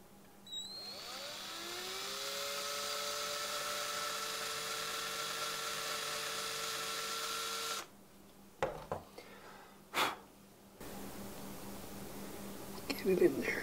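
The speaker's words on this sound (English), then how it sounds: "So the last thing I need to do is drill a little hole in the top so I can put a hook in it." A small power drill boring a hole into the top of a mini Christmas shadowbox ornament, a steady whine lasting several seconds close by, followed by brief handling knocks and short bursts.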